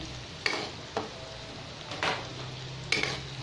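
Onion being stirred as it sautés in a hot pan, with a steady sizzle broken by four sharp scraping strokes of the spoon against the pan, close and clear with no talking.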